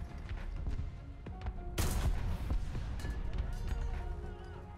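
Tank cannon fire in War Thunder sounds as one loud, sharp blast near the middle, set against a steady bed of engine rumble and battle noise with scattered smaller impacts.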